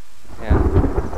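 Rain falls in the survival game The Forest, joined by a deep, loud rumble of thunder that swells in about halfway through and rolls on to the end.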